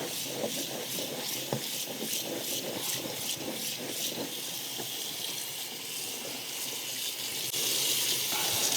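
Cold tap water runs steadily over hot white corn being rinsed after cooking with ash, a continuous close splashing wash with brief rattling, no talk.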